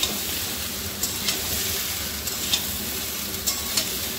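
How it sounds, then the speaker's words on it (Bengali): Hog plums (amra) for pickle are lightly fried and stirred in a pan: a steady, close sizzle throughout, dotted with soft clicks and scrapes from the stirring, with no speech. "এরপরে আমড়াটাকে খুব ভালোভাবে নাড়াচাড়া করে আমি একটু হালকা করে ভাজবো"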